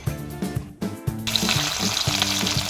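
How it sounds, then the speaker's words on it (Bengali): Large puti fish frying in oil in a pan, starting with a few short sputters and then breaking into a loud, dense, continuous sizzle heard up close. "পুঁটি মাছগুলো ভেজে নেব। ওর মধ্যে তেল দিয়ে দিয়েছি।"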